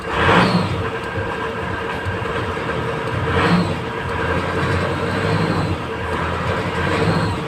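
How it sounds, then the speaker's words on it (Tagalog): A car engine running unevenly with a misfire, its injector suspected faulty, gives a steady close rumble broken by recurring rough surges every few seconds. "medyo palyado siya guys, kasi sa tingin ko may problema yung injector nito guys"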